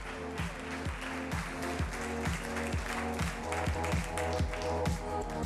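Audience applause during the Miss Mondo Lombardia Piemonte regional beauty pageant final: steady, dense clapping from a crowd, mixed over rhythmic music and continuing throughout.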